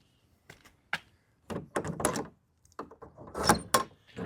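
A vinyl shed door is opened in a series of close, hollow thunks, rattles and scrapes, with brief clattering bursts and short quiet gaps between the handling noises.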